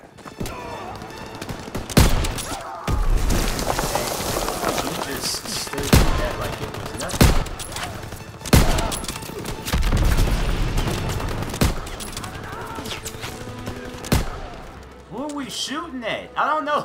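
Rapid bursts of gunfire and booming shots from a Call of Duty: WW2 D-Day battle, loud and repeated throughout, with people talking over the combat.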